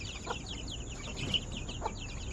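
Pet birds in the morning, a mother bird with her young, give soft clucks and quick repeated chirps at moderate distance, with no talking.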